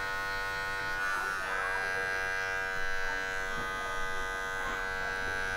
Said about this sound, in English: I'm kind of just using the heel of the clipper to keep me from creating lines in the haircut